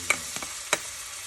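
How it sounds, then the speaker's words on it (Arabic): Chopped onion going into hot olive oil in a frying pan, giving a soft steady sizzle with a few sharp spatters and stirring clatters, close and fairly quiet. "من بعد كنضيفوا ليها البصله مشلضه كما كتلاحظوا"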